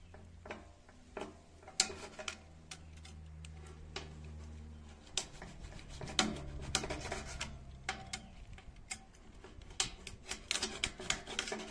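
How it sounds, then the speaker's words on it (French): Leftover residue is scraped off a surface in short, irregular rasping strokes with small ticks and knocks, close and quiet over a low hum. "Il y a des petits résidus encore. Je vais peut-être gratter encore un petit peu."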